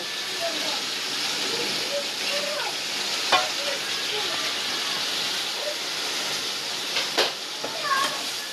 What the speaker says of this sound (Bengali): মশলাটা কষিয়ে তারপরে ডালের মধ্যে দিয়ে দেব